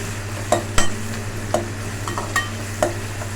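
A spoon stirs sautéed ingredients with added salt in a pan for Chettinad garlic kuzhambu, with several sharp scraping knocks spaced through a low steady sizzle.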